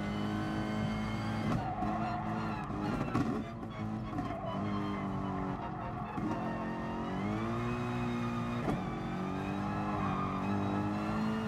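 Racing car in Gran Turismo Sport with worn tyres sliding through corners, a steady engine drone with shifting pitch and scrubbing tyre noise running continuously and loudly throughout.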